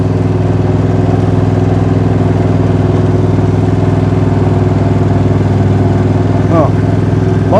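A Husqvarna riding mower engine runs steadily after a hard start, a loud, close, even idling drone with a strong low pulse and no pauses.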